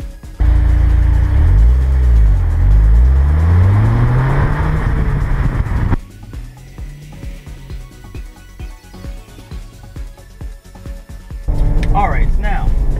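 Ford Fiesta ST driving on the road, a loud engine revving up and down through the gears, then quieter cabin rumble with road noise before the engine pulls hard again.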